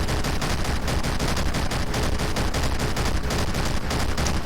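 Rapid, steady tank gun shots striking armour in Garry's Mod ACF, a loud unbroken stream of metallic impacts and reports with no talking.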